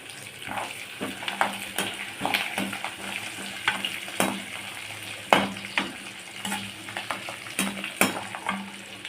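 Cashew nuts fry in oil in a pan during home cooking, a close, steady sizzle with frequent clinks and scrapes as they are stirred; no speech.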